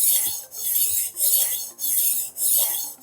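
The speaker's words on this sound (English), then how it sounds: "You can see when I'm sharpening the 15 degree in this Japanese style, the steel is much harder." Tumbler rolling knife sharpener working the 15-degree edge of a hard-steel Japanese-style knife, giving five even, rhythmic scraping rasps, close and alone with no talk.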